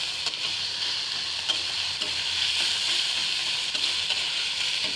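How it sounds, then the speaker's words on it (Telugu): Onions frying in a pan for a chana dal pulusu: a continuous, close sizzle, with soft scraping stirs and light taps of the spatula at intervals, no voices. "నార్మల్గా బ్రౌనిష్ కలర్ వచ్చే వరకు ఇలా వేయించుకుంటూ ఉండాలి ఆనియన్స్ని"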